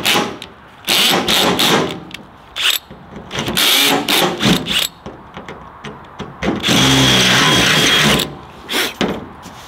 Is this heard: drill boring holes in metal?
yes